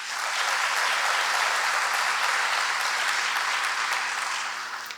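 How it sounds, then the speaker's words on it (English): Sustained audience applause at a formal civic address honoring an elected commissioner, a dense wash of clapping that holds steady and loud for several seconds before easing slightly at the end. "Please join me in another round of applause for Post 1 Commissioner Tawanya Smith."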